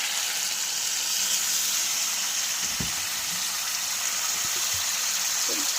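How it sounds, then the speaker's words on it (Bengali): A small splash of water hitting spiced singi catfish frying in a hot pan, producing a dense, steady hiss and sizzle from start to end, with a few soft low knocks of the pan. "এখন সামান্য জল দিয়ে দেবো।"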